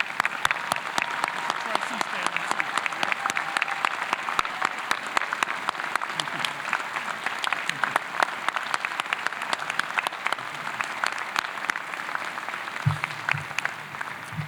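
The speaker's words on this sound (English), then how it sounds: "I'd like to recognize them with a round of applause." At a Cleveland police graduation ceremony, the audience gives sustained, even applause for the police recruit trainers, with crisp overlapping claps that continue steadily throughout, and a voice is briefly heard near the end.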